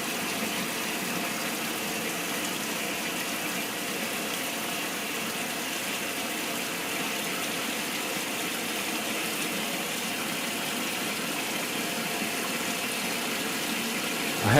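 A Maytag A606 washing machine with an old-style transmission runs with its front panel removed, giving a steady, even mechanical hum and churning whir that holds unchanged throughout without voices.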